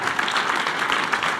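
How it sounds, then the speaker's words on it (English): Steady applause from a conference audience welcoming a keynote speaker, dense and continuous clapping that fills the room at even loudness with no speech over it. "please give a warm round of applause for Helix."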